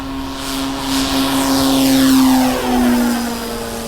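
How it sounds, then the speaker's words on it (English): An FMS 1400 mm Pitts S2B electric RC plane flies past with a steady high propeller whine whose pitch sweeps down as it passes, loud and nearby, with no voices. "This is our FMS 1400 millimeter Pitts S2B."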